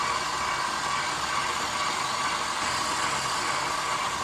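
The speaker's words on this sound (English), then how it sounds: "It also doesn't hurt to stop the mixer." An electric stand mixer whirs in a steady, even drone while mixing raspberry thumbprint cookie dough with egg yolks, close and continuous with no talking.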